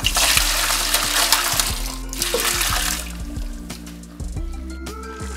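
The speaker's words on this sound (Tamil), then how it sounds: "ப்ரொக்கோலி வெந்துருச்சு, தண்ணி வடிகட்டிக்கலாம்." Hot water is drained off boiled broccoli, a close splashing trickle that runs strongly and then thins out, with no speech.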